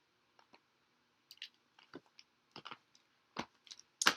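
A tarot card deck being cut and shuffled, heard as a string of soft, close, papery clicks and flicks in irregular bursts, with a sharper riffle near the end.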